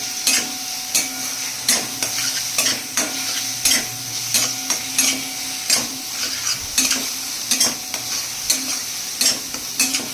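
Dried fish stirred into frying spice masala with onion, garlic and green chillies makes regular close scraping strokes of a spoon against the pan every half second or so. A steady sizzle runs underneath and no one speaks.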